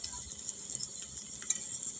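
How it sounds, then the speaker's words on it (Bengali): Pointed gourd and potato frying in a pan, a quiet, steady sizzle with a thin crackling hiss and occasional small pops, no voices. "দেখো, এ তো আমি পটল আলু ভাজা করছি"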